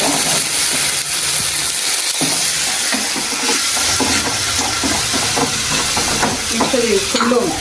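Onions frying to a pink tinge in a pan, loud continuous sizzle with scraping stir strokes throughout, no voices.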